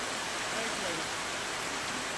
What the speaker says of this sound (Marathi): ऊन आहे उन्हात पाऊस पडत.